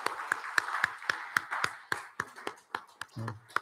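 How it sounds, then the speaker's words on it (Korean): Church congregation at a Sunday morning service clapping to thank the elders, a sparse, evenly spaced run of sharp claps at a quiet level, with a brief low rumble near the end. "우리 어르신들께 감사하는 박수 한번 할까요?"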